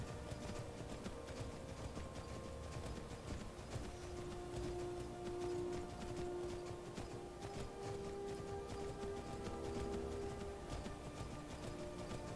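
A horse gallops along a road in the video game Skyrim, a steady muffled patter of hooves running continuously beneath sustained background music tones.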